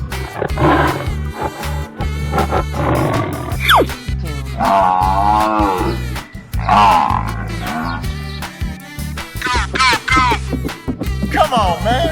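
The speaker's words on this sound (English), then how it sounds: "Tiger." Tiger roars and growls repeat through a 3D animal slide game, several loud, drawn-out snarling calls layered over steady background music with brief pauses between them.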